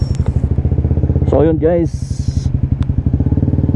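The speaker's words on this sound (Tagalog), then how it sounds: "Pinaandar na namin kaagad ang motor para makaalis na." A motorcycle engine idles with a steady, rapid putter close by, someone speaks briefly over it, and a short burst of revving rises and falls before the idle resumes.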